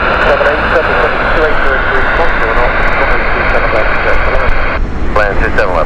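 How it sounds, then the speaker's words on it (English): An American Airlines Boeing 777 on the Dallas flight drones steadily at an airport, a loud continuous jet rumble with a voice talking over it throughout. "This is the Dallas flight 777."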